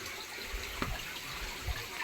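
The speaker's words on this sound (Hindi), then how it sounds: "ये पानी यहीं से निकल रहा है, बड़े बड़े पत्थरों से।" Spring water flows out from between big rocks near a hill temple in the Karoonjhar hills, a faint, steady rushing wash with a few soft low splashes, heard alone without talk.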